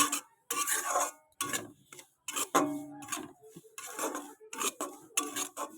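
Semolina is dry-roasted and stirred in a pan, producing a rhythmic series of close, gritty scraping strokes, each a short rasping burst separated by brief pauses.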